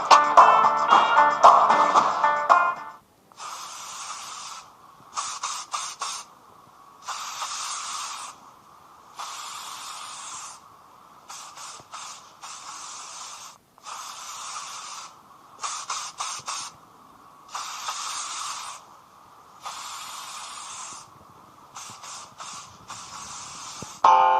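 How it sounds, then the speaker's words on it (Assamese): Repeated hissing bursts from a spray can, short and steady, with brief gaps between, after a loud mechanical rattle at the start. "স্প্ৰে ইমান লেজিকে মাৰে নেকি অলপ স্পীডত মাৰবা"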